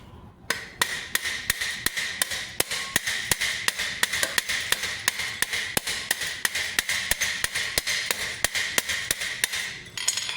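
Hammer blows rivet together a medieval great helm, or Topfhelm, striking in a steady, evenly spaced rhythm of sharp metallic taps close by, about three per second for ten seconds with no talking.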